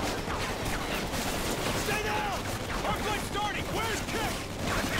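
Dense enemy gunfire in the Call of Duty: Ghosts video game, a steady crackle of rapid overlapping shots and bursts that never lets up and runs under excited player talk.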